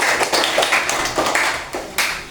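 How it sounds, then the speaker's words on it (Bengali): Children clap their hands together during a classroom quiz game. The claps come as a quick, fairly even run of close, sharp slaps that fill the short moment with no talking. "হাততালি দাও, হাততালি।"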